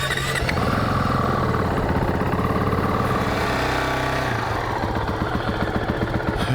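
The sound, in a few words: 2019 Honda CRF450X dirt bike engine idling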